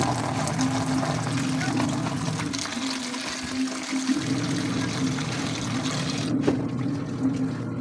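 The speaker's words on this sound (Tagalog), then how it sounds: "Nadagdagan ko po ng tubig" Water pours and splashes steadily into a laundry basin during a home wash, a continuous wet rush with a brief lull midway and background voices present.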